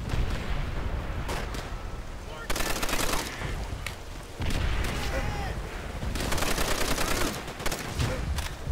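Sustained gunfire from Call of Duty: World At War on PC, with dense bursts of automatic fire in loud stretches broken by brief lulls, continuing through most of the passage without clear speech.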